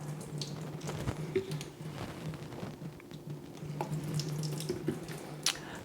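Water draining out of a potted orchid, a soft continuous trickle and patter with scattered drips, fairly faint and close, with no talking.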